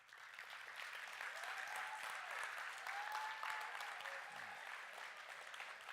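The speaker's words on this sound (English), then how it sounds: "give your teachers and all the people here who put this together a round of applause" An audience applauds teachers and event organizers in a sustained round of clapping, dense and steady for the full stretch, with faint crowd murmur beneath and no speech.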